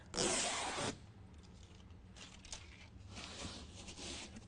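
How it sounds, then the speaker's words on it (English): Adhesive protectant backing being peeled off a BedRug XLT truck bed mat, one loud ripping tear up close followed by softer crinkling and intermittent peeling sounds. "peel the adhesive protectant away and expose that adhesive"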